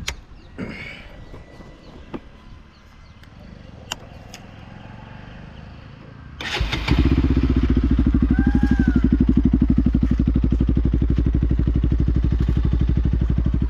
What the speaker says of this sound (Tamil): நான் இப்போ பைக்கை ஸ்டார்ட் பண்ணி உங்களுக்கு எக்ஸாஸ்ட் நோட் காமிக்கிறேன்